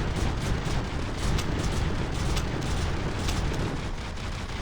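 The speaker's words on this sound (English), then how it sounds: "I'm even seeing the missile bays go open. There we go. Missile away." A missile launches from a warship in the video game From The Depths, a loud, continuous roaring blast with sharp crackling bursts sustained throughout and no talking.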